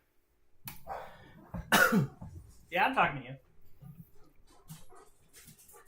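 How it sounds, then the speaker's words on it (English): A dog barks a few times close by, short sharp bursts around someone speaking indoors. "why are you barking?"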